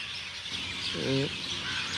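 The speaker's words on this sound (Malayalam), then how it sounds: "പുറത്തുനിന്ന് നിങ്ങൾ കേൾക്കുന്ന കിളിനാഥം കേൾക്കാനാണ് ഞാൻ നിങ്ങളോട് ഓടി വരാൻ പറഞ്ഞത്" A single short bird call rings out once over a steady outdoor hiss, fairly faint and brief.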